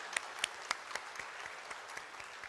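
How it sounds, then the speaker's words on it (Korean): A church congregation claps together in faint, sustained applause at a worship service, with a few sharper individual claps standing out over the steady patter. "우리 한번 박수 한번."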